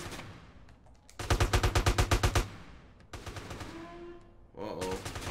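Automatic gunfire in Grand Theft Auto: San Andreas, a loud rapid burst of about a dozen evenly spaced shots, then quieter strings of shots with in-game engine and effect noise between them.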